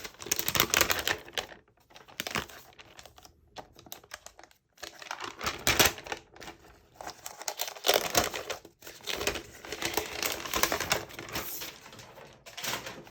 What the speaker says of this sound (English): let's peel off this plastic here.